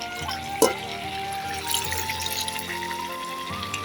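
Spice water poured into a pot of frying duck meat curry with potatoes, a running liquid splash over a low sizzle, close and fairly quiet, with a brief clank near the start.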